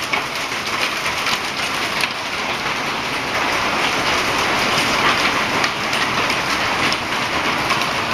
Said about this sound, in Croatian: Ovo je jednostavno kiša.